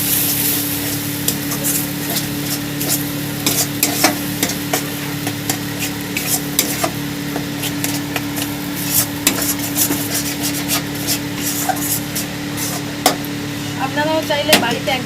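Grated raw green mango being stirred into a simmering rohu fish curry, a steady scraping of a spoon in the pan over a continuous sizzle, with light clinks throughout and no talking.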